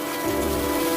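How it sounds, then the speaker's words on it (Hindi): Steady rain falls through a dark night in an animated Hindi story, a dense, even hiss that runs unbroken and fairly loud for the whole second with no voices over it. "रात का समय था और अंधेरी रात में आकाश में बिजली की कड़क के साथ बारिश शुरू हो गई थी"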